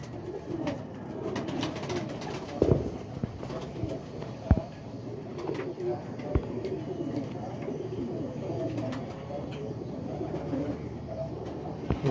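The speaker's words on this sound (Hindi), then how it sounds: "ये देखें जी 4 कबूतर है" Domestic flying pigeons cooing softly in a loft, low repeated coos under a steady background murmur with occasional louder thumps and flutters, no clear speech.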